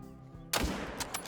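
A rifle shot at a roe deer in theHunter Call of the Wild, fired from a .25-06 by a pond: one sharp, close report with a short rolling tail, then a few fainter cracks echoing afterward.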